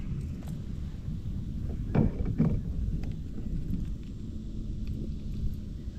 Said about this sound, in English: Been fighting the wind.